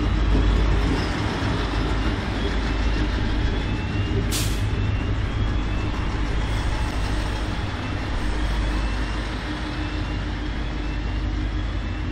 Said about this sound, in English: More commuters alight from this three-car sprinter set at 17:37.